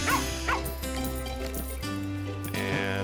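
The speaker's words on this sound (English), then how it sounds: "He barks, makes it go away." Dog barking in the video game Plantera, short yipping bow-wow barks over a steady game music bed, a couple of quick barks near the start and more scattered through.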